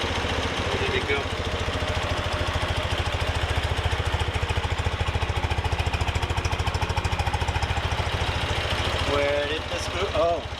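A motorcycle engine runs steadily while its carburetors are balanced with a Harmonizer, giving a close, even, rhythmic throb at idle-like speed throughout, with a brief faint voice near the end.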